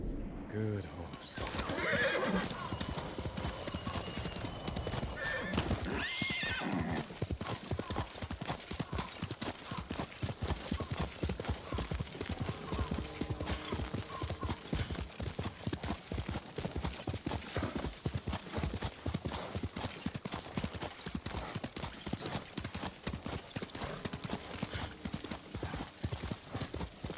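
Horse hooves clip-clop steadily while the animal neighs, from the video game Ghost of Tsushima, with a game score and a voice speaking over the continuous galloping.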